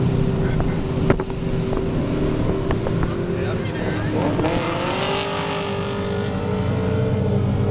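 Stock Ford Falcon ute driving at a Powercruise event, its engine note rising and falling through the run amid continuous outdoor rumble and wind noise, with a short clunk early on.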